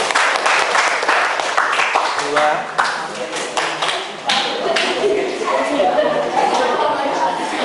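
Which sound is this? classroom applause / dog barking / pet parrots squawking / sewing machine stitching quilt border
classroom applause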